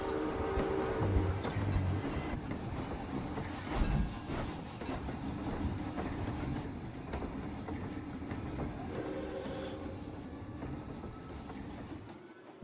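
A steam train running through a theme park in the game Planet Coaster, with a continuous rolling rumble and rhythmic clatter of wheels on track, moving past close by and loud, without speech.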